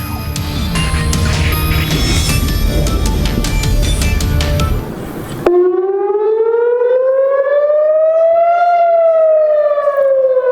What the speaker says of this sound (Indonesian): Warga Israel berlari menuju tempat perlindungan saat suara sirine memecah kesunyian di kota Tel Aviv